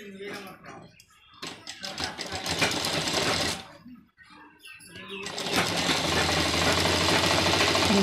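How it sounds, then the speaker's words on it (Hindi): A sewing machine stitching the cuff of a gents' kurta runs in bursts of rapid mechanical chatter, stopping briefly and starting again, then running steadily and close by at the end. "देखिए हम इस साइड को पैर का सिलाई लगा देंगे।"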